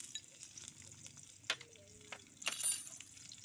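Chopped onion fries in mustard oil in a wok, a steady soft sizzle broken by a few sharp clinks and scrapes of a stirring utensil.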